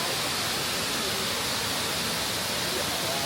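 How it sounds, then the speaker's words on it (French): Grand Galet waterfall on La Réunion fills the air with a steady, loud, close rushing roar of falling water, continuous and unbroken throughout, with no voices standing out. "Nous passons à Grand Galet, la cascade la plus grande de la Réunion."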